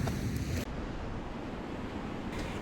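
Wind and sea waves on the shore during a rainy sea-fishing session: a continuous broadband rush of surf and gusting wind noise on the microphone, steady and fairly loud, with no voices.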